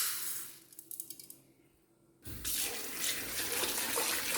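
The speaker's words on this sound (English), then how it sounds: "you have got to wash the rice" Tap water splashing into a sink while sushi rice is washed, with a few light trickles and rattles first, then a brief lull, then the faucet gushing loudly and steadily.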